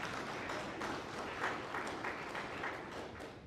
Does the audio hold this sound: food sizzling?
no